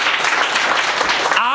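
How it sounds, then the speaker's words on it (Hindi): Students at a mobile repair training institute clapping together, a short loud burst of dense applause with voices mixed in, fading as it ends. "एक बार इनके लिए जोरदार ताली बजाओ।"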